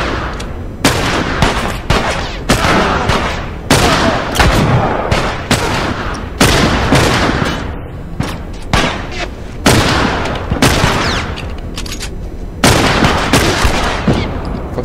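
Gunfire in The Last of Us during a firefight with bandits: loud, repeated gunshots and bursts crack out close by in uneven clusters across the whole stretch, with some booming reports between them.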